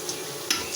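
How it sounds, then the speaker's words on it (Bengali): Spices frying in oil for a bagar tempering make a brief, faint sizzle. A couple of light stirring clicks sound over it. "বাগারের জন্য ভাজে নিচ্ছে এটা"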